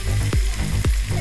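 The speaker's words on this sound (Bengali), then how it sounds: "এটা রসুন বাটা দিয়ে দিলাম। ভালো করে নেড়ে নিচ্ছি।" Garlic paste frying in a pan gives a close, dense sizzle, broken by two quick scraping swipes of a stirring spoon in a short burst.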